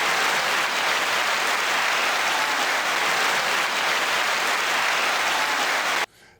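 Applause sound effect: dense, even clapping from a crowd holds at a steady loud level for about six seconds, then cuts off abruptly.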